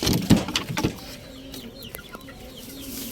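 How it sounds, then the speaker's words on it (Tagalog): Backyard chickens clucking close by, a few sharp loud clucks at the start then quieter scattered calls over low outdoor background noise. "meron akong mga manok dyan"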